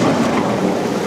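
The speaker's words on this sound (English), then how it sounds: "It's raining a bit." Rain falls outdoors near a market stop on a tour, a loud dense hiss of spray and patter that stays continuous and unbroken throughout.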